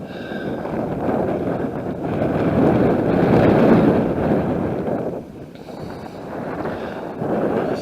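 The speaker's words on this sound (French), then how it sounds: "Il y a beaucoup de vent, beaucoup de vent." Strong gusts buffet the microphone at a coastal bunker viewpoint, a loud rough roar that swells and eases over several seconds with no voices.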